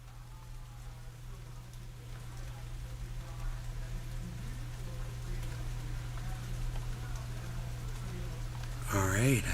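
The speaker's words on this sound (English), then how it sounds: "The little pitter patter of raindrops on leaves." Rain patters softly on leaves, a faint continuous hiss of drops under a low steady hum, with a voice briefly audible near the end.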